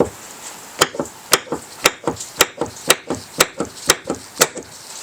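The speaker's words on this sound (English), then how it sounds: "So let me try to see if I can just pry that a little bit." Steady metallic tapping and striking on a part of a Coats 5030A tire machine pedal as it is worked loose, about a dozen sharp, close hits at a regular rhythm.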